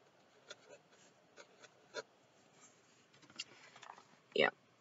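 A quill pen made from a feather scratches across paper in short, faint, intermittent strokes, close and quiet, followed by a louder brief sound near the end.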